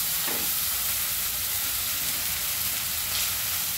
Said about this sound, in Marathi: हे आपण चांगलं परतून घेणार आहोत